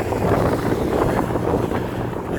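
Strong outdoor wind roars and buffets the microphone in a steady, dense rush with no pauses.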